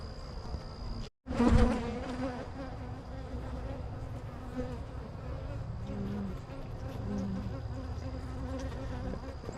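A dense, continuous hum of many honey bees buzzing close by in an opened hive box, with a single dull knock near the start.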